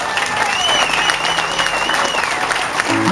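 An audience at an Eagles tribute show claps steadily and warmly, a dense wash of hands with a faint tonal whine above it and a low hum near the end.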